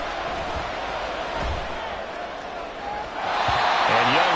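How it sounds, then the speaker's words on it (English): A stadium crowd at a football game applauds a defensive stop, a broad wash of clapping and cheering that swells louder near the end, with a commentator's voice running over it. "Some applause for the defense there."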